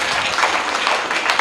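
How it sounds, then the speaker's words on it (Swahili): A congregation at a parish celebration applauds, a steady, dense burst of clapping from many hands, fairly loud and unbroken throughout with no speech. "Tuwapongeze kwa makofi tafadhali."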